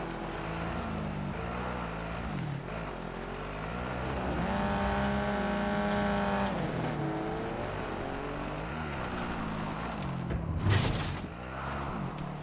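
Car engine in the video game Warzone, revving and shifting pitch continuously while driving, with a sharp noisy burst near the end.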